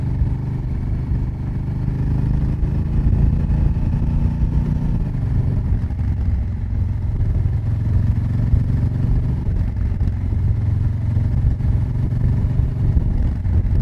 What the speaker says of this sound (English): this sound test of the Africa Twin